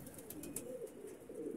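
Pigeon cooing softly and repeatedly in a low, rounded rhythm, fairly faint and close in a quiet setting.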